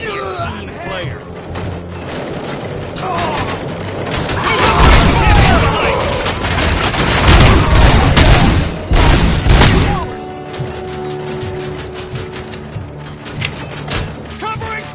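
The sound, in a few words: gunfire in the video game RoboCop: Rogue City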